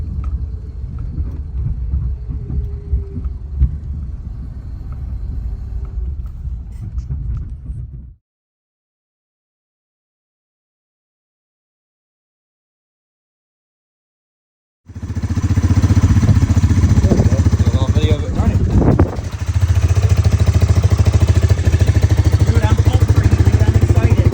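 A Ford Crown Victoria driving while towing a trailer, its engine and road noise a loud, steady rumble that cuts out for several seconds midway and then returns just as strong.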